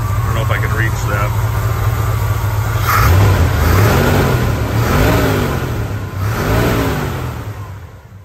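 A rebuilt, balanced 460 V8 in a 1977 Ford F350 Custom dump flatbed idles with a steady rumble, then revs up and down several times nearby in rising and falling swells.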